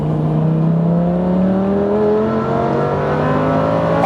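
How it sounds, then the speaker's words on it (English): A Lamborghini accelerates hard, its engine note rising steadily in pitch through a single strong pull, loud and close with a whirring edge. "Cut to me blasting some random Lamborghini."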